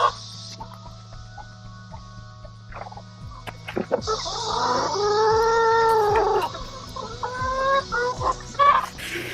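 Chickens cluck and squawk in a farmyard among turkeys and a goose, with several birds calling at once; the calls come near and loud, in short repeated bursts over a low steady hum.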